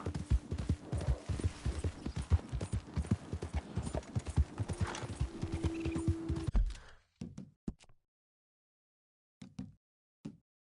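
Horse hooves clip-clop at a rapid gallop in Red Dead Redemption II, a dense rhythmic beat for about seven seconds, then slowing to a few scattered, isolated steps.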